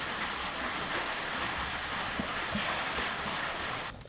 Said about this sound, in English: Oh my God, I think it's raining.